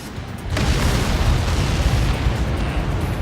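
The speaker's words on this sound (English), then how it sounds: "How many got caught in that explosion?" A large explosion in the combat flight game Ace Combat 7 erupts suddenly after a short quiet lead-in, then rolls on as a loud, sustained roaring boom.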